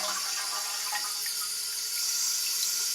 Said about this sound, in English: So I'm gonna flush the toilet and see how long it takes to fill up.